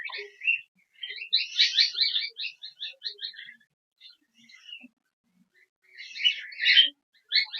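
Bursts of shrill, chattering calls from a few cockatiels, close by, with short pauses between outbursts.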